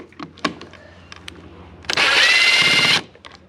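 A power drill backing screws out of the key panel on an ATV: one steady, loud whirring burst of about a second, heard close, preceded by small clicks and handling knocks.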